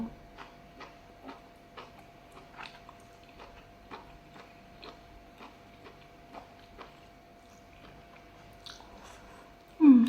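Crisp, crunchy chewing of cauliflower mushroom, a steady series of short bites repeating every half second or so, close and fairly quiet, with a louder bump at the end.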